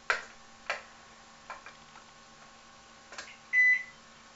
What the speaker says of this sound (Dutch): En dan ga ik ook gelijk even de magnetron aanzetten.